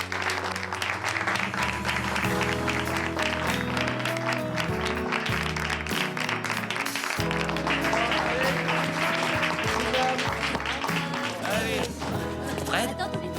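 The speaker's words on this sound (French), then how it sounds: "Et on les applaudit" A class of students applauds in a classroom, with a steady run of clapping blended into loud background music and murmuring voices throughout.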